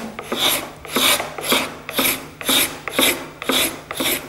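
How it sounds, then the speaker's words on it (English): A hand scraper pulled along the grain of an old furniture wood surface, making eight rhythmic rasping strokes evenly spaced about half a second apart, close and clear with no talk. "by scraping it towards you, in the same direction as the grain"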